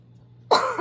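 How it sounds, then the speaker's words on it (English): A single sharp cough bursts out close and loud after a near-silent pause, followed by a short throaty catch as it trails off. "Sorry for all the coughing."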